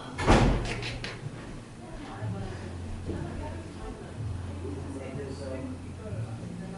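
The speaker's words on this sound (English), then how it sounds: "I will lock the door." A heavy dungeon door bangs shut with one loud slam at the start during an improvised stage performance, followed by a low rumbling scrape or lock sound under continuous talk.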